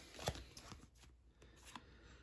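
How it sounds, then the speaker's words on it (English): A deck of cards shuffled for the tabletop game Aeon's End: War Eternal, a quiet flurry of riffling and tapping with a sharper snap near the start, faint and close. "So we'll just give this a quick shuffle."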